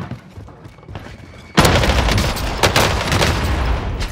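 Gunfire in Warzone starts abruptly after a quiet moment, a loud burst of rapid automatic shots and booms that keeps going to the end.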